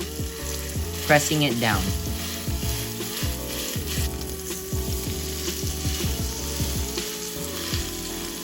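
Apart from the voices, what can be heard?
steak sizzling in hot pan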